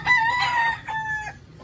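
A fighting rooster gives a single loud, close crow in two strained, tonal phrases, with no talk over it.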